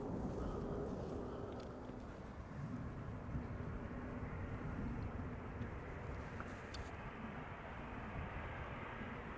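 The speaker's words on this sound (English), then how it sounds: "This is KLM flight 1546 arriving from Leeds. Yet another Embraer 190." A KLM Embraer 190 airliner arriving at Amsterdam Schiphol Airport, heard as a faint, distant broadband jet roar that stays steady and low, with some wind noise and no talking.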